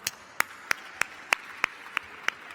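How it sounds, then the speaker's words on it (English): Sparse, distinct hand claps at a gala charity ball, about eight sharp claps in an even rhythm, fairly quiet and close, like a single person or small group clapping. "Give yourselves a round of applause."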